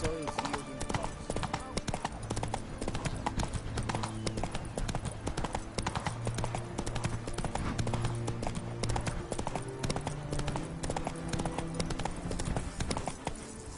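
Hooves of the horse Roach galloping in The Witcher 3, a fast, steady clip-clop beat running throughout under a voice speaking over the game's background sound.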